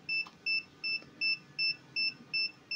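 A faint, steady series of short high-pitched electronic beeps from a UNI-T UT15B digital multimeter warning, about three per second, repeating evenly over quiet background noise.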